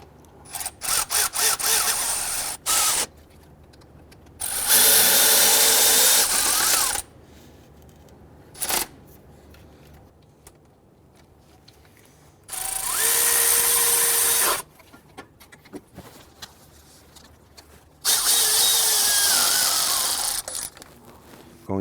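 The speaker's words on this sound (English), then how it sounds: "Now that we have all four of the AC compressor bolts started," A power tool snugs down the AC compressor bolts on a 2006-2012 Toyota RAV4 3.5L V6 in several separate whirring bursts, each a couple of seconds long, with quiet pauses between them.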